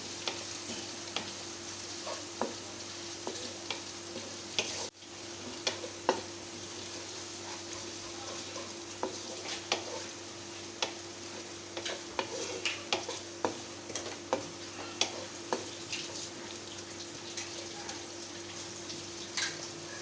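Ginger and garlic fry in a pan with a low, steady sizzle. Frequent light clicks and scrapes from stirring run through it, fairly quiet and close, and no one speaks.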